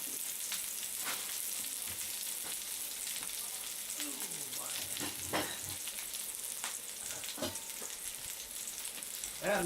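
Yak balls fry in hot oil in a pan with a soft, steady sizzle and crackle, faint and close, with occasional stirring or utensil scrapes and a voice briefly heard.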